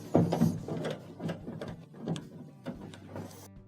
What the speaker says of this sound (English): we have 2 Phillips screws that have to be taken out.